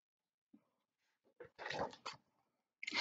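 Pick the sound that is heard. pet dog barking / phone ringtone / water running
pet dog barking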